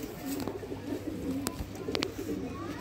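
Rampuri and Pakistani breed pigeons coo softly in low, throaty repeated calls over faint background noise. A couple of brief sharp clicks break in.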